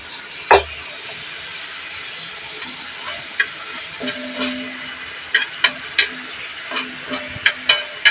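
A spoon scrapes and clinks against a pan as thick homemade gravy is stirred, with a soft sizzle underneath and scattered sharp metallic taps alone.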